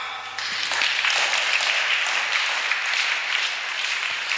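A congregation at a Sunday church gathering applauds, many hands clapping in a steady, even roar that holds at the same level throughout.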